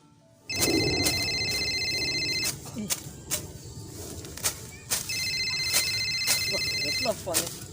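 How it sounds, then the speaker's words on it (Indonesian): A telephone rings in repeated electronic bursts, two clear ringing spells separated by a pause, close and loud, with footsteps and background movement around it. "Telepon nih."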